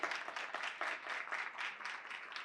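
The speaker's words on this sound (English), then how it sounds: "Let's give them a round of applause." Quiet, fairly distant applause at a county town hall meeting as the audience claps for young students, uneven bursts of hand claps heard at a low level.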